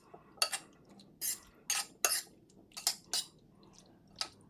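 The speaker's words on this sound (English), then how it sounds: "make sure you mix it in really well" Cooked pasta is stirred together with short rib ragu in a bowl, giving a run of irregular clinks and scrapes of a utensil against the bowl, with soft wet squishes between them, close and fairly clear.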